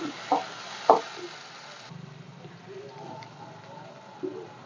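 Ground spice paste sizzling and frying in a hot pan for rasam, with a few sharp clinks of a spoon against metal over a low, steady crackle.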